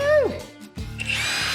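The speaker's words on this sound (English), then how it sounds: "Then we just gotta take that bolt out and the shock should come out." An impact or power drill spins out a bolt holding a vehicle shock absorber, giving a brief whine close by, with people talking around it.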